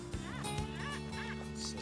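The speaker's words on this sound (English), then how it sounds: "Notice how it really squeaks, the detector? Instead of that nice, clean sound, hear how it squeaks?" A metal detector sweeping over a meteorite in the Australian outback, giving repeated rising and falling squeaks over a steady hum, close and continuous.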